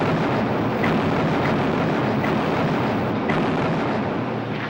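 Continuous heavy rumbling roar of aerial bombing on Pacific atolls in the Gilbert Islands, carrier-based aircraft raids, dense and loud throughout with faint recurring thuds and no voices.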